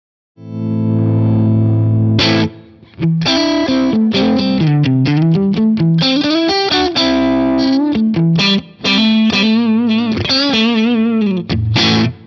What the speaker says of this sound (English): I'm using the Matchbox D30 EF86 amp model with my Strat